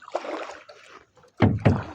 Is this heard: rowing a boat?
yes